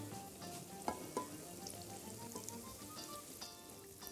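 Corn dogs frying in a generous depth of hot oil, a soft continuous sizzle with scattered small pops and crackles, fairly quiet and without talk.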